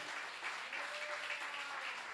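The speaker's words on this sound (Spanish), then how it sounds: "le pongo un fuerte aplauso al Padre amado" Congregation at a church service applauding, a soft, distant, continuous patter of many hands clapping that holds steady for a couple of seconds with no voices over it.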